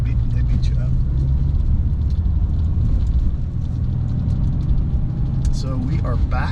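A 1996 Porsche 911 Carrera in Arena Red drives along a road, its engine and tire rumble steady and close throughout, with a brief lull midway and some faint higher clatter near the end.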